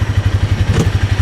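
A 2023 Argo Magnum XF 500 side-by-side runs in low gear, its engine chugging in a fast, even pulse close to the microphone, with a brief clatter midway and no voices.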